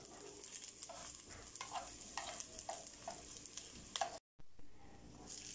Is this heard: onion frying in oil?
yes